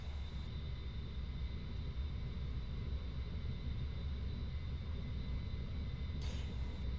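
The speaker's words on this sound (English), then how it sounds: "If you can hear a little rumble in the background, that's my new butt kicker shaking my seat" A bass shaker rumbles a gaming seat during an A-10C takeoff in a flight simulator, a continuous deep low drone like a jet engine that holds steady throughout.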